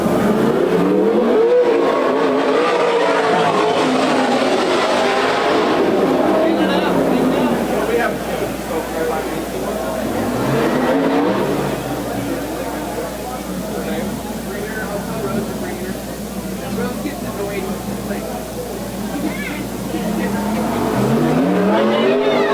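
World of Outlaws sprint cars at Willamette Speedway, engines roaring and revving loudly throughout with passing surges and tire noise, under continuous announcer commentary.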